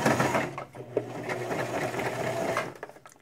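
Sewing machine stitching through thick layers of a moccasin, a steady close whirring run that continues without pause before slowing and stopping near the end.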